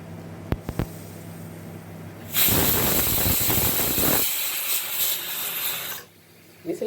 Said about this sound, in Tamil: விசில் வந்துருச்சுங்க.